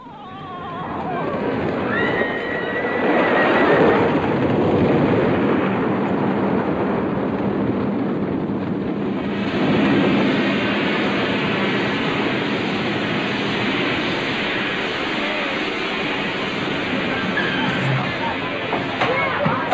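On the Colossus roller coaster, wind rushes in a loud, steady broadband roar that swells and eases over the ride, with voices faintly mixed in.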